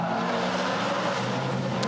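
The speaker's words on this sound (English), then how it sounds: "The cars now work their way down towards the right-hander of the Parabolica." GT4 race cars heading toward the Parabolica right-hander at Monza make a steady, sustained engine drone with layered tones from several cars, moderately loud and fairly close.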